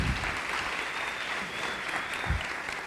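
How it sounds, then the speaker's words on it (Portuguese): Church congregation applause during a sermon, a steady crowd of clapping hands throughout the short stretch, fairly distant and even in loudness. "dá uma salva de palmas aí"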